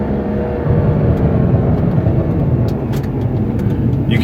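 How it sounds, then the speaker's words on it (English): BMW 135i with an MHD burble tune idles with a mild, low, steady exhaust rumble, close and fairly loud, with faint crackles and pops near the end. "it's a pretty mild burble"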